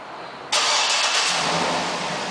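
A 2007 GMC Yukon Denali AWD starts by remote: after a short quiet lull the engine catches abruptly and settles into a loud, steady rumble close by.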